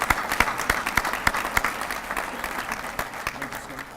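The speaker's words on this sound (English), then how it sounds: "So we will take back to him a hearty round of applause" A commencement audience gives a hearty round of applause for an honored graduate-ceremony guest, with dense clapping and scattered sharp claps over a steady crowd bed, sustained throughout.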